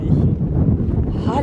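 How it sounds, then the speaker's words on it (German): Strong wind buffeting a microphone outdoors on a USA trip, a continuous low rumbling roar with gusty swells throughout, loud and close. "Oh, das ist so windig."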